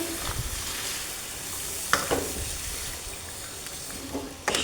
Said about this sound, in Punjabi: ਤੇ ਇਹਨੂੰ ਕਰ ਦਿਆਂਗੇ ਚੰਗੀ ਤਰ੍ਹਾਂ ਆਪਾਂ ਮਿਕਸ